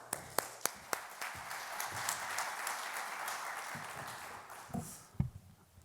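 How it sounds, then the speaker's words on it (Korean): Audience applause welcoming a guest speaker at a church elders' worship service in Seoul, opening with a few sharp separate claps that swell into steady, dense clapping from a crowd, then tapering off with scattered final claps. "강사님 나오실 때 큰 박수로 환영해 주시기 바랍니다."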